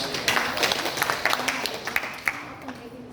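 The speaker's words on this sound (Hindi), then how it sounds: "हाथ उठा के तालियां बजाइए इनके लिए" An audience at a laughter therapy session in a theatre claps with raised hands, a steady patter of many palms carrying through the room at moderate loudness, with some voices mixed in underneath.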